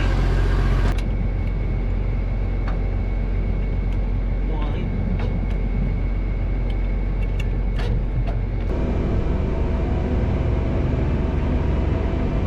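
A tractor-drawn disc mower runs steadily in a field, giving a loud continuous engine drone and machinery rumble throughout, with a small shift in tone partway through.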